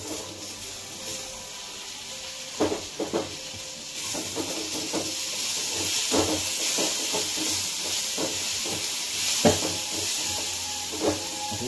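Chopped tomato added to hot oil with cumin, mustard seed and turmeric for kanda poha sizzles in a pan with a steady bright hiss, broken by occasional spoon scrapes and clinks; nobody speaks.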